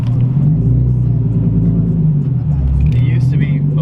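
A Subaru FRS engine idles in a steady, close, low rumble, running smoothly and quieter than it once was, with faint higher noise near the end.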